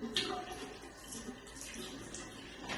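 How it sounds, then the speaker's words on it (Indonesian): Hands washed with soap under a running tap, water streaming steadily at low level with faint splashes throughout, no speech heard. "Pertama, cuci tangan dengan sabun dan air mengalir."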